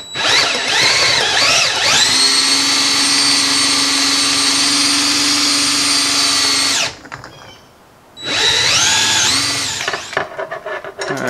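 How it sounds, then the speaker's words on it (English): A power drill whirs up and runs in a long steady whine, tightening screws on homemade bank rod holders, stops briefly, then spins up again in shorter revving bursts. "now we've got those cinched down a little bit with the drill"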